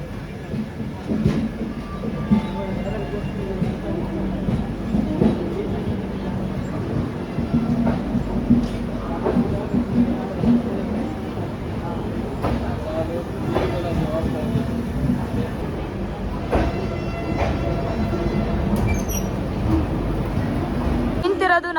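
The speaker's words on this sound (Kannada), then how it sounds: "ನಮ್ಮ ಪಕ್ಕದಲ್ಲಿನೇ ಸಾಂಗ್ಲಿ KSR ಬೆಂಗಳೂರಿಂದ ಬೆಳಗಾವಿಗೆ ಹೊರಡೋ ಟ್ರೈನ್ ನಿಂತಿದೆ." A KSR Bengaluru to Belagavi train pulls out of a station platform, a broad rumbling rail noise with clanks and rattles running throughout, while people talk nearby under the steady din.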